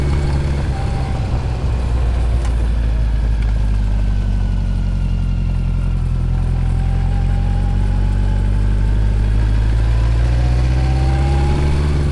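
A motorcycle with a sidecar combination rolls along slowly, its engine a steady, loud, low rumble with gentle rises in pitch throughout.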